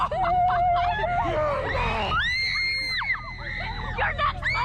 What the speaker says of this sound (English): People screaming again.